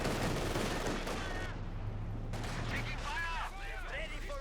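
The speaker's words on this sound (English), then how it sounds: "Sniper popping shots against the MG." In Company of Heroes 2, a sniper's shots trade with machine-gun fire in a busy battle, with bursts of gunfire and distant blasts under a commentator's voice.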